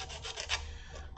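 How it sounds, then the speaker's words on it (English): Plastic model kit part for a Microaces SE5a biplane is sanded where sprue lugs were trimmed, heard up close as a few quick rasping strokes with no talking. "And then I'll just get sanding in."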